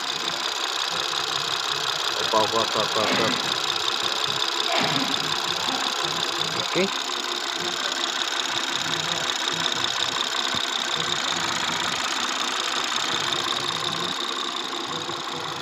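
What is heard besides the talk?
BMW 740i engine idling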